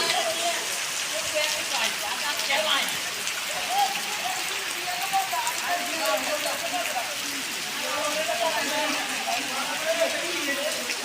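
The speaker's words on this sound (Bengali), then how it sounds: "আগে তো জানি না বন্ধু বৃষ্টির এত জ্বালা" Rain falls steadily through a football match, a dense, even hiss of drops across the whole stretch, with indistinct voices murmuring underneath.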